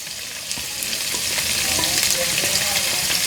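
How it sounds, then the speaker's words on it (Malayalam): Chopped onion, garlic, green chili and ginger fry together in a pan, a bright, loud sizzle with stirring scrapes and clinks building steadily throughout. "ഞാൻ ഉള്ളിയുടെ ഒപ്പം തന്നെ ഞാൻ ഇട്ട് കൊടുക്കും വെളുത്തുള്ളി പച്ചമുളക് ഇഞ്ചി"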